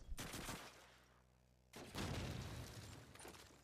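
Call of Duty 2 match gunfire: dense bursts of automatic fire and sharp shots, loud and close, a short lull, then another heavy volley.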